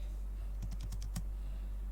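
Several quick key taps on a computer keyboard as numbers are entered into a Google Form, a short burst of clicks over a quiet room hum.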